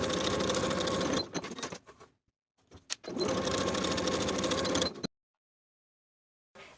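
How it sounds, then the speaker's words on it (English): A sewing machine stitches a pocket lining seam with a 5/8 inch allowance in fast, steady whirring runs, stopping briefly between bursts, with a short pause and a final restart at the end. "Sew with a 5/8 inch seam allowance across the top edge, leaving about a 1 inch gap in the center for turning."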